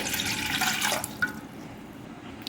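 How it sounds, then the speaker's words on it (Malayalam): Water, about one and a half cups, splashes into a pot for about a second, then a few quiet drips follow, close and fairly soft. "ഇതാ ഒരു പാത്രം എടുത്തിട്ടുണ്ട് അതിലേക്ക് ഒന്നര കപ്പ് വെള്ളം ഞാൻ ഒഴിച്ചു കൊടുക്കുന്നുണ്ട്"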